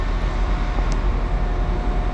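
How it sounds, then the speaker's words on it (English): Train pulling into a station on the way to Birmingham, a steady broadband rumble with low-end roar and a faint hiss, continuous and fairly loud throughout. "So this is a train which is coming to the station now."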